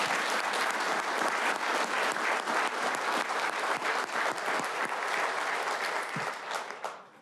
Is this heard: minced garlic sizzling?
no